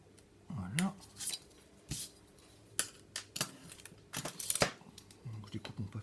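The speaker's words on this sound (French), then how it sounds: "Donc je découpe mon papier." Scissors cutting paper at a craft desk, several crisp snips and rustles spaced irregularly, close up, with a soft voice speaking briefly in between.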